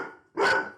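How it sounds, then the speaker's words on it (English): A single loud, close dog bark bursts out after a quieter stretch of low background sound, ringing on briefly before fading, with no one speaking. "he was just barking just to express his confusion and frustration"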